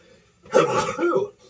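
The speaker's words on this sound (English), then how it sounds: "probably about to sneeze" A single sneeze, close and abrupt, with a short sharp breathy burst from a person indoors and quiet on either side.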